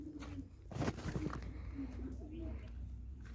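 Pet pigeons coo at an open pigeon house where they roam free: soft, repeated low cooing close by, rising and falling over steady background noise.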